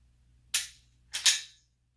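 Two sharp dry-fire trigger clicks from a Glock 17 Gen 5 pistol with a Zev slide and tungsten guide rod, close and crisp, spaced about half a second apart in an otherwise quiet room.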